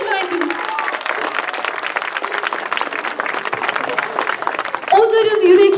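Sustained applause from a concert audience at an outdoor show by an autism orchestra and choir at Sığacık castle, steady dense clapping throughout, with a voice speaking over it near the end.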